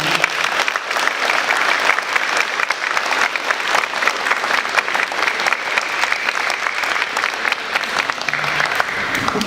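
Warm audience applause for primary school art contest winners at a school district board meeting, a dense, loud, continuous clapping crowd throughout.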